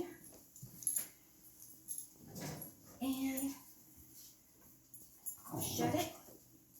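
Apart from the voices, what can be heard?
dogs whimpering at oven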